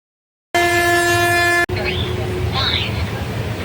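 A train pulls into a station, its horn blaring loudly for about a second before giving way to rumbling carriage noise, with faint talk in the background.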